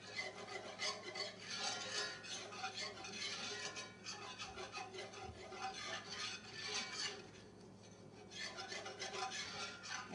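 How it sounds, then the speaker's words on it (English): Flour being stirred into a roux for mac and cheese, a continuous close rasping and scraping of a utensil against the pan with a faint cooking hiss underneath, quiet and without talk. "Mix this well. You do want to let the flour cook a little bit"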